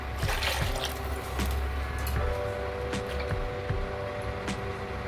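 Water poured into a pot of kokum rasam, a steady close trickle and slosh running throughout with small drips and clinks, no talk.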